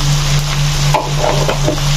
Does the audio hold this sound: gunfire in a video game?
no